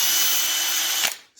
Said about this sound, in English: a fresh tool called the cut speedometer cable on a drill